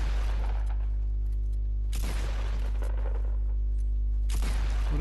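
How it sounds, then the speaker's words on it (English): Gunfire in the battle royale video game Fortnite, with a couple of sharp, loud bursts of shots separated by gaps, set over a steady low hum from the game. "And then I hear a gunshot hit someone"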